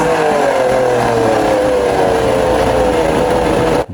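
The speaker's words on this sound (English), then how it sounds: "The engine is warm, so let's give it some throttle" An old 1968 boat engine running in a water-filled barrel revs loudly under throttle, a steady close-up roar with a rising whine, cutting off abruptly near the end.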